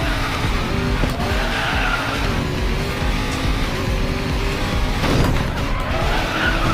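A Bugatti Chiron racing at top speed in the mobile game Racing Master, with a continuous loud engine roar mixed with tire skidding and squealing and a few sharper bursts.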